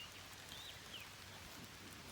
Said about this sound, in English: It's raining, it's raining, it's raining.